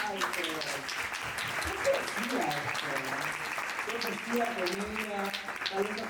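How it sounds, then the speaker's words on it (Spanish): Audience applause at a talk or seminar on anti-normative ways of inhabiting space, a steady wash of clapping from a seated crowd with voices talking over it throughout. "aplausos."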